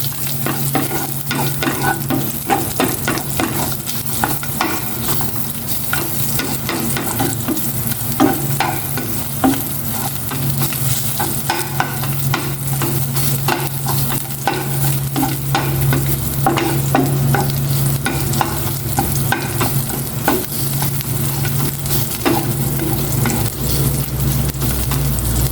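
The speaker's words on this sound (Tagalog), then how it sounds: "Igisa ko na itong bawang." Garlic sautéing in a pan for a fried-fish lunch, a steady dense sizzle with frequent scraping stir strokes throughout, loud and close with no voices.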